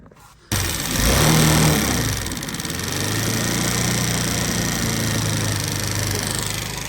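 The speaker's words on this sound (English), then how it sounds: "I'm just going to start it while you stand here and you can look at the motor." A crashed BT49QT-7 scooter's small engine fires after a short quiet moment, briefly revs, and then settles into a steady, buzzy idle that runs close and fairly loud to the end.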